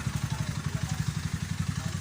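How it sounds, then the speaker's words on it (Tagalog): A vehicle engine left idling at night in a flood-hit, blacked-out area during a relief operation in Marikina, its steady rhythmic low chug pulsing evenly and fairly close throughout. "hindi ko na pinatay yung makina"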